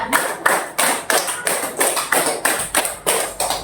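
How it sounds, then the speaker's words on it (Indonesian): A classroom of children claps in unison during a counting clap game, with a steady beat of about ten loud, close group claps in even rhythm and no talk over them. "dua kali tepuk lima"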